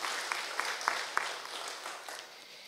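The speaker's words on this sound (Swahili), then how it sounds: "Tumpigie makofi." Scattered clapping rises in a church congregation for the governor of Kiambu, a few sharp claps at first then a soft patter that fades out.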